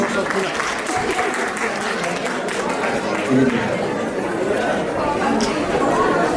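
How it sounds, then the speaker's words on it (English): Crowd applause for an honored guest at a Rajasthani Teej women's celebration event, steady clapping throughout with lively chatter and voices underneath. "Give a big round of applause for Dilip ji."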